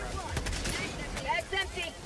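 Automatic gunfire from the Helldivers 2 video game crackles in rapid bursts through the whole short stretch, with a voice talking over the shooting.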